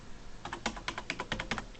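An old clicky computer keyboard is pressed in a quick run of sharp, close key clicks, about a dozen strikes in an uneven rhythm, alone without any talk.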